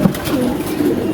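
A small flock of six or seven pet pigeons coos softly and continuously nearby, with low murmuring calls layered over one another and no speech.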